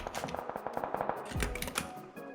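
Rapid bursts of automatic gunfire in PUBG crackle in quick succession from a town, fairly distant and moderately loud, with a heavier thud midway.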